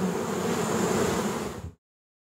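Honey bees buzz steadily and close around an opened hive on a rainy day in northeast Georgia during feeding with pollen substitute and sugar syrup, a dense continuous drone that stops abruptly.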